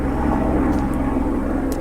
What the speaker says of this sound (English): I swear a plane flies overhead every single time I start talking.